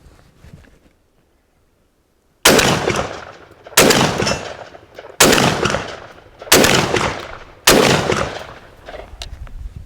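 Benelli M4 tactical 12 gauge shotgun firing Remington buckshot, five loud close blasts at steady intervals of about one and a half seconds, each with a sharp crack and a short decaying echo.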